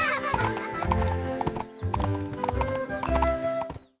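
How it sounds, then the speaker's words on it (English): A horse whinnies and its hooves clip-clop in quick, rhythmic bursts, close and clear, with brief gaps between runs of hoofbeats. "The horse helps us ride and pull carts."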